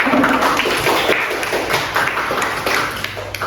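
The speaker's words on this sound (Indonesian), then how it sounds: "Kita beri tepuk tangan untuk tadi" Students in a classroom clap for a group presentation, a fairly loud burst of mixed hand claps that holds steady and then thins slightly toward the end, with no talk over it.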